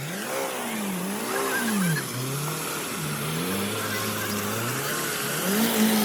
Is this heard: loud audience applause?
no